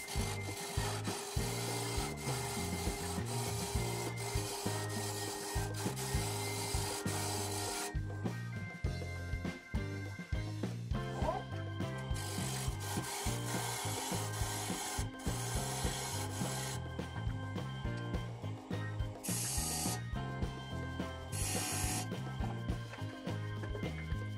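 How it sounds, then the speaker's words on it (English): A Cindy Drozda Vortex tool cuts decorative rings into a thick maple platter bowl on a lathe, a continuous close scraping and rasping over a steady machine hum, with the texture of the cut shifting partway through. "That was the Cindy Drozda Vortex tool to make the rings."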